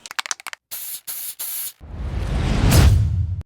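A few short hissing bursts from a spray paint can, then a longer, louder rushing spray with some rattling underneath.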